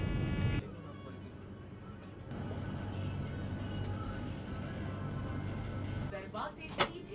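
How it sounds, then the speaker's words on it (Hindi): At a station platform, the doors of a Vande Bharat express train open with a brief clunk, then a steady mechanical whirr over a low background hum. A short sharp clack follows near the end. "दरवाजे सीधे तरफ खुले हैं।"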